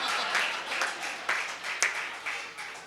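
An audience claps at a comedy poetry show, a sustained wash of many hands from a sizeable crowd with small surges and swells, fairly close and filling the whole moment without speech over it.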